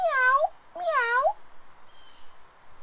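A voice imitates a cat meowing, two drawn-out, wavering meows in quick succession, close and clear, followed by quiet room tone.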